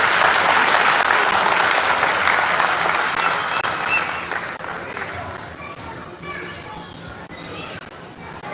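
Sustained audience applause at a Hindi poetry recital (kavi sammelan), loud and dense from the start, then slowly thinning and fading toward the end.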